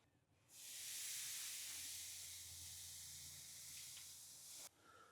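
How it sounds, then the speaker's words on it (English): A spray bottle spritzes a turkey breast cooking in a mesquite-fired smoker. It gives one sustained hiss of about four seconds, fairly close but soft, then cuts off abruptly, with no talking. "So I'm just going to go ahead and spritz it one last time"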